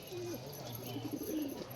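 Pigeon cooing in soft, low, rolling phrases, close by and fairly quiet, with a couple of short coos over steady background noise and no talk.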